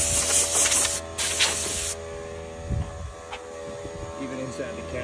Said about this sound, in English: I'll spray off this little bit down here